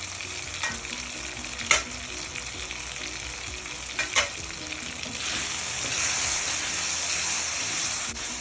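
Mushrooms frying in a pan for a pepper fry, a steady close sizzle with a few sharp clicks of utensils and the sizzle swelling louder near the end; no talk.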